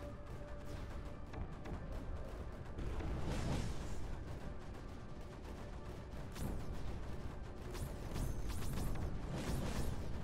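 A bombing squad's bombardment in Creeper World 4: a continuous rumble of distant-sounding blasts and crackling impacts, swelling in bursts and carrying sharp whistling tones through the later part.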